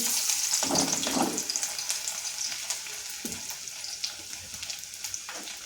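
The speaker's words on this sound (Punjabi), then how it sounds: "ਆਪਾਂ ਇੱਧਰ ਪਹਿਲਾਂ ਪਾਉਣੇ ਆ ਲਸਣ ਕਸਾਉਣੇ ਆ ਜੀ" Hot oil sizzles and crackles steadily as garlic fries for tempering greens, loudest at first then settling, with occasional stirring scrapes and pops.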